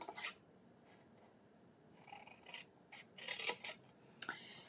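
Scissors or shears cut along toward a score line while making an apple crate and guinea pig basket, with several faint, scratchy snips and rasps coming in irregular bursts at close range.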